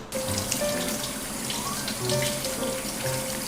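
Tap water runs steadily into a kitchen sink while fresh young ginger is rinsed for a simmered fish dish, a constant close splashing rush with small shifts as the ginger moves under the stream.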